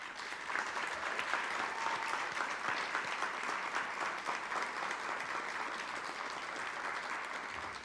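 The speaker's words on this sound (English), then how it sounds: "invite members of Black and Astro to stand to receive a round of applause" Audience applause for the Black and Astro community members, a steady, even wash of clapping from a crowd in a hall, sustained and moderately distant.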